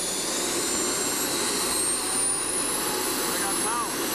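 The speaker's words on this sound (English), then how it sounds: "So now, when I move the throttle," A model jet turbine engine roars loudly and close by as its throttle is advanced, giving a steady, dense rushing whine with a high-pitched tone running over it and no pause.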